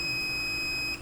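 A continuity tester buzzer sounds while checking the wire of a Bosch grinder under repair, a steady, loud high-pitched electronic tone held for about a second.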